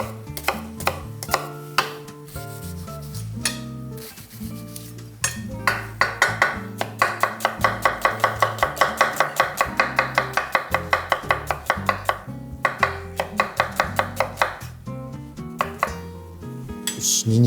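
A knife minces a halved onion on a cutting board for an Egyptian-style bean croquette: a few scattered cuts, then a long run of rapid, evenly spaced chops, loud and close.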